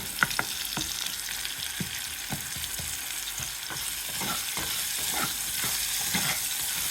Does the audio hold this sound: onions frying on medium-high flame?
yes